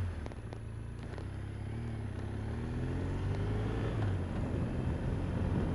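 A 2015 BMW R1200R motorcycle with a 1170cc water-cooled engine running on the road, a steady low engine drone that rises gradually in pitch and loudness as it accelerates, with wind noise and no talking.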